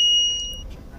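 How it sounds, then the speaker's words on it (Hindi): A homemade reed-switch door security alarm gives a loud, steady high-pitched electronic tone that carries for about half a second and then cuts off, leaving faint background room noise. "रूम से जब मैं बाहर जा रहा हूँ तो ये अलार्म दे रहा है।"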